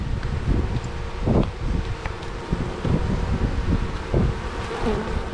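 Honey bees buzz steadily and close by during a hive inspection in an apiary, a dense continuous drone with individual insects swelling louder as they fly past, along with light rustling.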